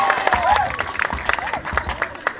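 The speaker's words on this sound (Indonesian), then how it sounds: "Hei tepuk tangan buat Ki Sodun." A Balinese Calonarang temple performance draws clapping from the crowd. Sharp, irregular claps come under murmuring voices and general crowd noise, moderately loud and close.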